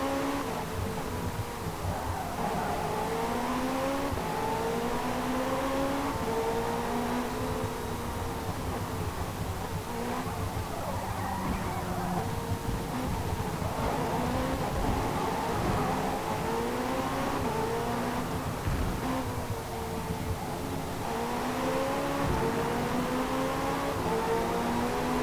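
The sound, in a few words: Pagani race car engine in Forza Motorsport 5 video game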